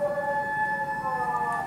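A steady wailing emergency siren sounds in the distance, a sustained tonal whine with slight pitch drift, carrying over quiet background noise at an indoor shooting practice.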